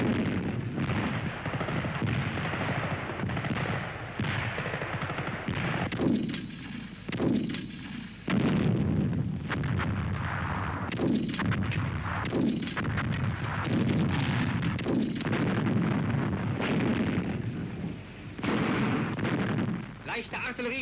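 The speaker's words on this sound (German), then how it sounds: "Leichte Artillerie schießt Sperre." A light artillery barrage fires to stop an enemy attack, with booms and cracks overlapping into a dense, sustained roar that swells and dips for about twenty seconds.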